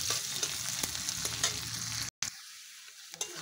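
Goat meat sizzles and fries in a hot pan, a steady close hiss with occasional stirring clicks, briefly cutting out partway through.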